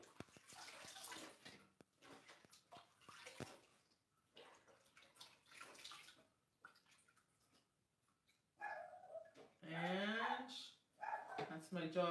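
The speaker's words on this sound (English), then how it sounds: "that's my dog barking like crazy because the mailman's coming probably" A dog barks excitedly in short bursts in the background of a kitchen, mixed with running water from a faucet and a person talking, growing louder toward the end.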